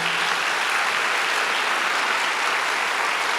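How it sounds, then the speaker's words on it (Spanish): A church congregation gives loud, sustained applause during a sermon, a dense, even roar of many hands clapping close by from start to finish, with no speech over it. "Dale ese aplauso bien fuerte al Señor."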